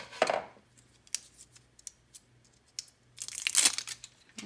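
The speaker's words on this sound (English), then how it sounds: "This one comes wrapped, so I'm just gonna use my scissors" Scissors cut open the plastic wrapping on a Canon MX922 edible ink cartridge: a crisp snipping and crinkling burst at the start, a few faint small snips and rustles in between, then a louder rustling cut near the end.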